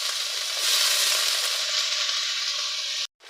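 Potatoes tipped into hot oil with browned onions sizzle loudly and steadily for about three seconds before cutting off abruptly.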